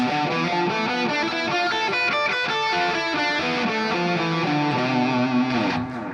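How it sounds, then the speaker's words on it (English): A distorted electric guitar plays a fast, flowing diminished pentatonic lick of rapid notes, loud and continuous, with no voices. "it's a pretty interesting sounding diminished lick"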